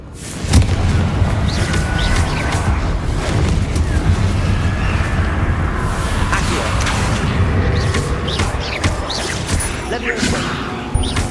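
A Confringo blasting spell explodes in the Hogwarts Legacy video game, a booming, rumbling blast under a continuous wash of game noise, with a voice calling out over it.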